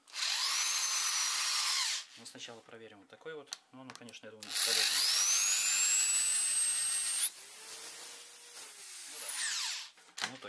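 A high-pitched power drill with a wood drill bit whines in bursts against glass, spinning up and winding down, with someone talking between and over the runs.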